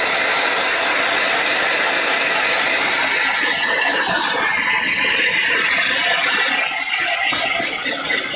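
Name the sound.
heat gun drying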